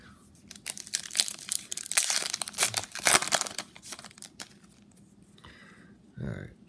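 A Topps Star Wars Solo trading card pack wrapper is crinkled and torn open close by, a dense rustling burst that settles into lighter handling, with a voice speaking briefly near the end.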